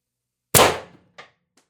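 Sharp single shot from an X-68 Punisher build air gun with a 1.8mm wire bolt spring and no suppressor, a loud crack decaying quickly, followed by two fainter mechanical clicks.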